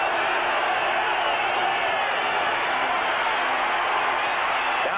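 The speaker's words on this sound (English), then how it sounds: "This crowd in Denver trying to make it tough on Marino" Steady, dense roar of a Denver stadium crowd at a 1985 NFL game between the Dolphins and Broncos, a continuous wash of massed voices holding level throughout with no distinct breaks.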